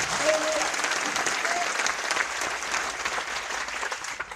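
A church congregation claps together during a worship session, a full, continuous burst of applause filling the hall, with brief faint tones and voices mixed underneath.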